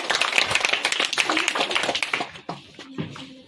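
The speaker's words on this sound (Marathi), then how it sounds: "टाळ्या वाजवा सगळ्यांसाठी" Audience at a quiz competition clapping, a burst of dense applause for about two seconds that thins out into scattered claps and a few brief voices.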